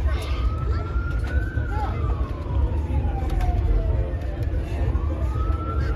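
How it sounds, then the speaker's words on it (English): A police car siren wails at a distance, its rising and falling tone drifting under steady background noise at a home during an Eagles game. "I'm pretty sure it's a police car."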